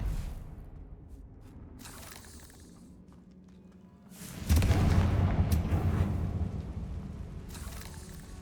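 A Confringo fire-blast spell detonates in the Hogwarts Legacy video game, a single loud, deep boom that swells suddenly partway through and rumbles on, after a stretch of quieter game ambience with scattered small hits.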